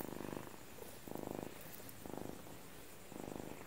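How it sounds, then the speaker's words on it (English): A cat purrs deeply and close up, a low rumbling motor sound pulsing in even waves with each breath. "You guys all know Puppy's deep motor purr by now"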